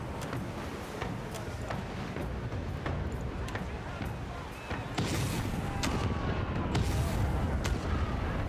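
Ship cannons fire in Pillars of Eternity 2 Deadfire, several booming shots in an uneven volley over a constant rumbling sea-battle background, getting louder and denser partway through.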